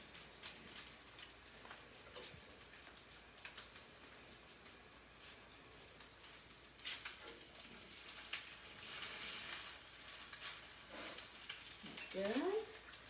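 Four quinoa cakes fry together in a pan during a live cooking class, a quiet, steady crackle and hiss of sizzling oil with a few louder spits and the soft clink of a utensil near the end.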